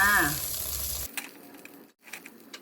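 Raw salted egg frying in a small amount of oil gives a bright, close sizzle that cuts off abruptly after about a second, followed by faint crackles and quieter intermittent spattering.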